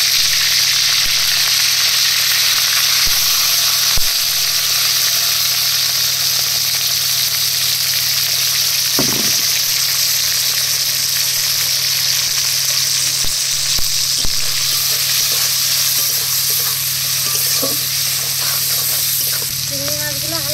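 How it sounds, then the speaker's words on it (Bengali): Shrimp fry lightly in a pan in a village kitchen, producing a steady, loud, continuous sizzle with occasional small clicks and stirring sounds. "চিংড়ি মাছগুলো হালকা করে ভেজে নিয়েছি"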